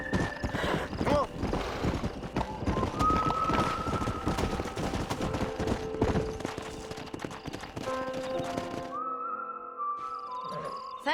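Horse hooves clip-clopping in the video game Red Dead Redemption, rapid and busy over game sounds with occasional whistles and gunfire, the hooves dropping out near the end into a quieter tonal passage.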